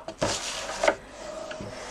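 Paper card stock for a treat box lid is scored, producing two short, close scraping strokes followed by faint rubbing and a light tap, with no talking.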